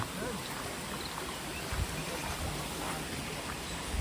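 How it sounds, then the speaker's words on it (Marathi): A forest stream near the Khubadeshwar temple at Katale runs downhill after rain, giving a faint, steady trickling wash that holds evenly throughout. "हा जो ओढा आहे तर तो इथून खाली असा वाहत आलेला आहे"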